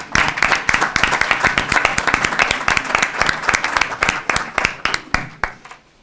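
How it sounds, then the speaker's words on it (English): A roomful of people at a water infrastructure roundtable claps loudly, with distinct individual hand claps forming a brisk, uneven rhythm that continues steadily before tapering slightly at the end. "join me in a round of applause for these individuals"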